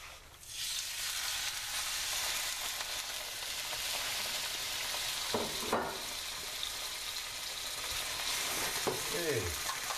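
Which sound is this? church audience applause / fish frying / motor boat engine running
fish frying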